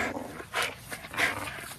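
A dog gives several short, breathy vocal bursts, two stronger ones standing out amid softer whines and panting, close by with no talk.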